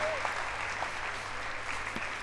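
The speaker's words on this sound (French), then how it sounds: "On entend le public qui déjà a compris, lui, que Seb avait gagné. En l'applaudissant." Audience applause at a French precision shooting championship, a steady wash of clapping from a crowd for the winning shooter, sustained throughout with a voice speaking over it.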